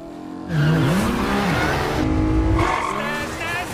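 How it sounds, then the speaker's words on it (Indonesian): A car speeding in a movie chase scene, tires squealing sharply over a loud, continuous engine roar with revving, no speech. "Benji dan Ethan lalu mengendari mobil dan tancap gas untuk mengejar Ilsa."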